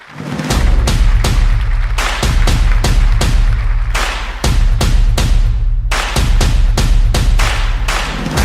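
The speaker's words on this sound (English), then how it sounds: "They don't warn you about the fireworks." Stage fireworks going off at a large forum event, a rapid run of loud bangs and crackles in quick bursts that fill the space, stopping briefly before resuming.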